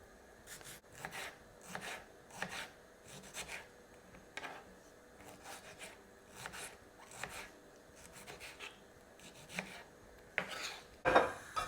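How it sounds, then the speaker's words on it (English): A knife roughly chopping four or five medium tomatoes on a board, with quiet, uneven cuts and scrapes repeating in loose rhythm, then a brief louder clatter near the end. "just roughly chop 4 to 5 medium sized tomatoes"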